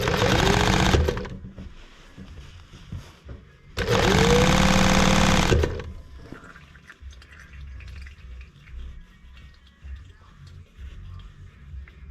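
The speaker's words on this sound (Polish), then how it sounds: "od razu trzymam tak podczas szycia i wpuszczam to wszystko w maszynę" A sewing machine stitches a foam mattress cover for a camping trailer in two loud, close bursts of rapid whirring, separated by a pause filled with faint handling noise and quiet rustling.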